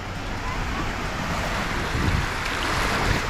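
Waves from the Adriatic Sea wash steadily onto the shore of Italy's coastline, a continuous broadband surf with light wind noise buffeting the microphone throughout.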